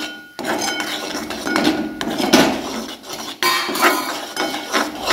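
Khoa being stirred in a pan with crushed almonds and cashews, giving steady scraping and clinking of a spoon against metal, fairly loud and continuous, with no talk.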